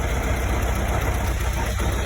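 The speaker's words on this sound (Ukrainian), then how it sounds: "Це трактор зараз." A tractor engine running at a rural house yard, a steady close, loud low rumble with a continuous mechanical drone and faint rattling vibration, unbroken for the whole moment.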